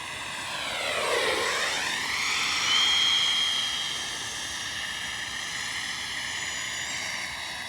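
Freewing A-6 Intruder 80mm EDF RC jet making a pass down the runway, its ducted-fan whine rising as it nears then sweeping down in pitch and settling into a steady, fairly loud whoosh.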